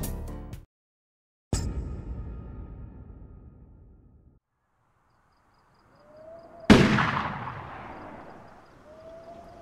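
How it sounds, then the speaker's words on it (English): Sharp gunshot bursts from the video game Project Zomboid: one loud crack with a long decaying tail, a gap of near silence, then a second loud report with a ringing echo, all without talk. "It's just a gunshot."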